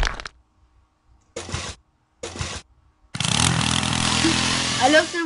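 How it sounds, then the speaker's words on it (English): A drill in a parkour prison-escape video game: after a few short bursts of talk, a loud buzzing motor starts and runs steadily to the end, with faint voices over it. "I gotta try the drill."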